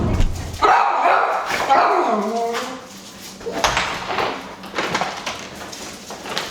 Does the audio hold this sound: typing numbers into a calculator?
no